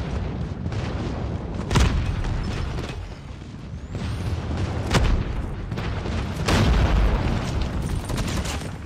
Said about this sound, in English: Friendly airstrike is coming.